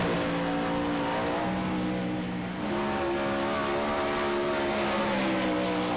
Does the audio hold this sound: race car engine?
yes